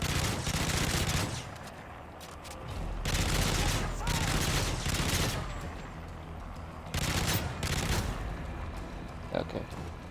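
Loud bursts of automatic gunfire from Modern Warfare 3 Survival mode hammer at enemy riot shields in three long volleys, with short lulls between them.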